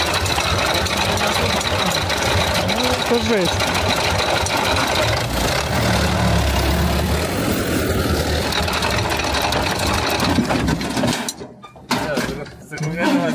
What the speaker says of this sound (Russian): Вот мотор, вот вам мотор. Работает на масле.